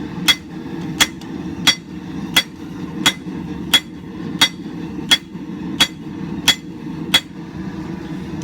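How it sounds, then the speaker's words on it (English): Hammer blows ring out on camp knife steel being forged at the edge of an anvil, about a dozen sharp metallic strikes at a steady, even rhythm over a low background hum. "now it's back to the edge of the anvil to get more length"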